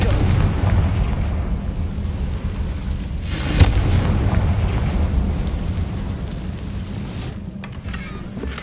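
A Confringo fire spell exploding in a Hogwarts video game: a dense, rumbling blast with one sharper burst midway, over continuous roaring noise and no talking.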